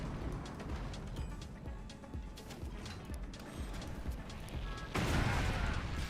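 Game cannon fire in Forts RTS, a steady stream of thuds and crackles that ends in a loud, broad blast near the end, heard amid dense in-game noise.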